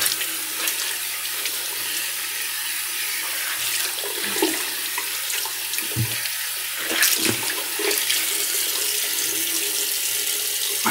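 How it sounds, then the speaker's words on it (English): Water runs from a tap into a sink for a cold rinse after a wet shave, a steady close splashing stream with a few brief louder splashes partway through. "Cold water rinse."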